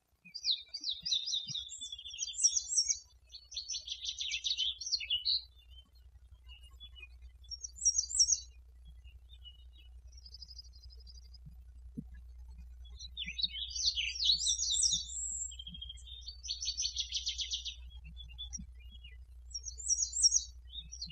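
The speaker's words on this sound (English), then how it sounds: "Different birds singing yesterday morning to me as I was walking" Several different birds sing during a morning walk, trading bursts of chirps and trilled phrases with short pauses between them, fairly clear over a faint low background hum.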